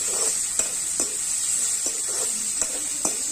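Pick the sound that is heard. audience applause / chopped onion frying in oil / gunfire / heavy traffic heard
chopped onion frying in oil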